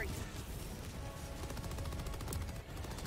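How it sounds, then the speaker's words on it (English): An automated machine gun sentry in a shooter video game rattles off dense bursts of rapid gunfire, near and loud, nearly continuous with a short dip late on, mixed with game background noise. "Machine gun sentry coming in."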